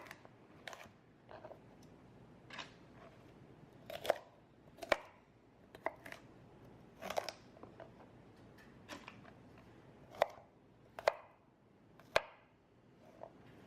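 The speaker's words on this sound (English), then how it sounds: "Continue chopping your next vegetable." A knife chops on a cutting board in irregular, sharp taps, some louder than others, with quiet pauses between them.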